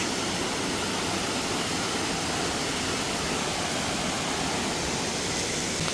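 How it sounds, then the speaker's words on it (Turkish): Small waterfall beneath a mountain at the Ottoman-era Alperenler Tekke in Mostar, its water rushing in a steady, dense roar that stays loud and unbroken throughout, with no voices. "küçük bir şelale gibi olmuş."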